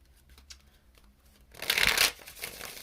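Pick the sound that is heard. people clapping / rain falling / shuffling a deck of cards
shuffling a deck of cards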